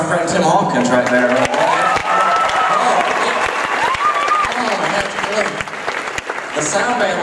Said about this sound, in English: How about one round of applause for my friend Tim Hawkins right there?